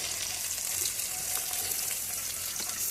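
Spices frying in a pan with ginger, mustard seed, garlic, green chilli and tomato, a steady soft sizzle with small crackles and spits, close and quiet, no talk over it.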